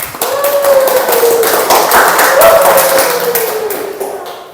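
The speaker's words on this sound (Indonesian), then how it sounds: "Tepuk tangan untuk kita semua." Students in a classroom clap together for a few seconds, a dense patter of hands while a voice carries over it, fading toward the end.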